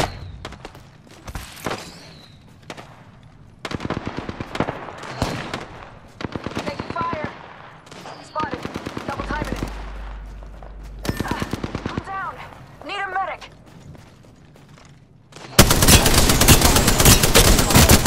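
Bursts of automatic gunfire in the video game Apex Legends, sharp rapid rattling volleys separated by short pauses, with a voice speaking between shots and a loud, dense burst of shooting near the end.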